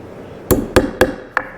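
Four sharp metallic taps of a hammer striking a nail set, driving nails into wood, close and crisp, spaced unevenly with quiet gaps between.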